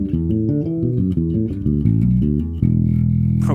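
Bass guitar fill built from fourths, a quick run of plucked notes climbing and shifting in a steady rhythm before landing on a held low note, close and clear with nothing else playing.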